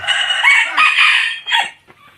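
A Thai game-fowl rooster crows loudly and close by, one drawn-out cock-a-doodle-doo with a strained, harsh tone that breaks off at the end.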